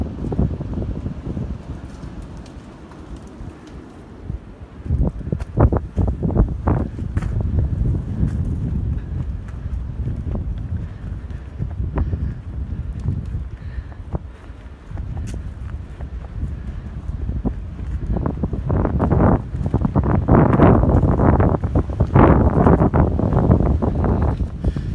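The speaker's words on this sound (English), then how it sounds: "And winds are gusting probably, I'd say up to 20 miles per hour." Gusting wind on a snowy, icy mountain stretch of the Appalachian Trail in the Smokies, blowing in as a steady loud rush into the microphone with stronger gusts building toward the end.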